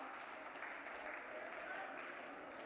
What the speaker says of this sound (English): Can we have a round of applause for them, please, Mr. Kofinas and Ms. Gupta?